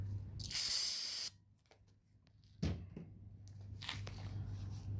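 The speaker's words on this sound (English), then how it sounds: "Basically, you just spray it on, kind of let it dry." Brake cleaner sprays in one loud, sharp hiss lasting under a second onto rusted brake rotors, followed by quiet, then a short knock and faint rustling, close to the microphone with no talking.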